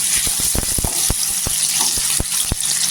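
Potato pieces frying in oil for a cauliflower vegetable dish give a steady, close sizzle, punctuated by a series of sharp spatters and pops at irregular intervals, with no voices.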